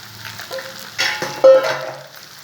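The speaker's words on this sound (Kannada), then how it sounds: "ಇದೊಂದು 2 ನಿಮಿಷ ಫ್ರೈ ಆಗಲಿ ಬೆಳ್ಳುಳ್ಳಿ" Unpeeled garlic cloves frying in oil in a pan, a soft steady crackle with a few brief louder bursts and a short high ping partway through, fairly close and alone.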